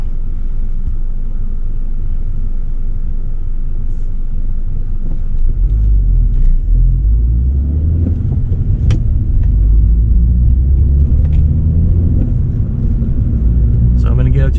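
A 1997 Acura CL with a manual gearbox accelerates from inside the cabin, its steady low engine rumble rising in pitch as speed builds. The drone is loud and continuous throughout.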